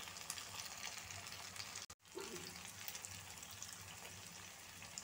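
Three malai puas fry in refined oil in a pan over a low gas flame, giving off a steady, dense sizzle broken once by a brief cut to near silence before the crackling resumes.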